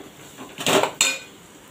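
A spatula scrapes and knocks in a pan while ivy gourd, capsicum and spices are sautéed for tondli rice, two quick close clinks standing out over faint background hiss.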